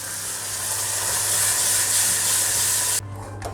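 Cream poured into hot caramel of butter and sugar sizzles with a loud, steady broadband hiss that fills the pan. It cuts off abruptly near the end, leaving a quieter bubbling.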